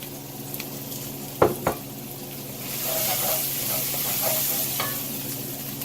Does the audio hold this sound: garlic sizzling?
yes